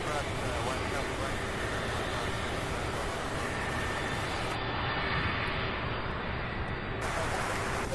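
McDonnell Douglas MD-11 jet at Louisville International Airport, a steady, loud broadband engine roar that holds unbroken throughout, with faint talk beneath it.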